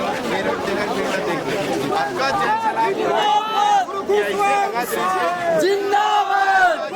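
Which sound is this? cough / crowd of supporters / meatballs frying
crowd of supporters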